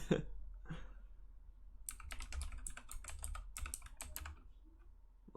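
Computer keyboard typing in rapid, clicky bursts of clacking keystrokes across the middle of the stretch, close and fairly loud over a low room hum, with no one speaking.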